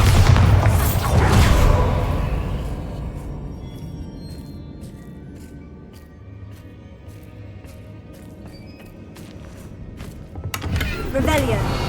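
A Bombarda explosion spell goes off in Hogwarts Legacy, opening with a loud, deep booming blast that rumbles away, then a quieter stretch with faint ticks before another heavy burst near the end.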